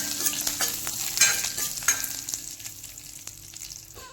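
Dry red chillies and curry leaves crackle in hot oil for a Karnataka sambar, with brisk stirring scrapes and sputters that fade toward the end.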